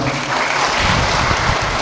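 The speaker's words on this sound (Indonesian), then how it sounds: "Kasih sport tepuk tangan dulu dong" Steady, dense applause from a crowd, continuous clapping filling the space without a break.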